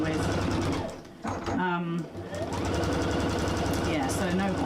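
Sewing machine running on a long stitch length for quilting a packaway cushion, a steady fast mechanical whir close up with a short pause partway through, the motor then resuming its rapid stitching rhythm.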